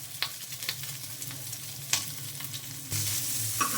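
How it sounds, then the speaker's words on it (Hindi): Salted beef frying on a tawa, a close, steady sizzle with crackling pops and stirring scrapes that grows louder and denser in the final second. "नमकीन फ्राई गोश्त तवा फ्राई, माशाल्लाह से देखें कितनी आसानी से और कितना खूबसूरत गोश्त फ्राई हो रहा है।"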